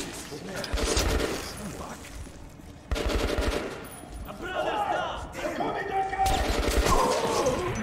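Bursts of automatic gunfire and crashes in the post-apocalyptic shooter Metro Last Light Redux, loud sustained rattling in several long stretches with heavier thuds mixed in and a voice heard under the shooting.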